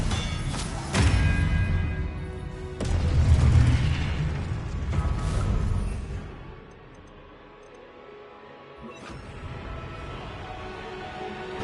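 Confringo blasting spells in the Hogwarts Legacy video game land as several heavy booming bursts and thuds in the first half, followed by quieter rumbling and a softer later pop.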